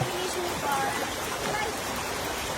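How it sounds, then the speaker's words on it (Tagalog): Rain falling on a river, a steady broadband hiss of drops and flowing water, continuous and close, with faint voices talking over it. "Naabutan kami ng ulan dito sa ilog."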